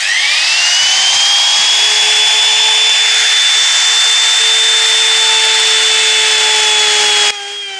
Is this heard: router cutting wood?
yes